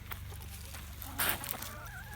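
A backyard hen clucks softly in an outdoor chicken run, with short calls over a steady hum of background noise.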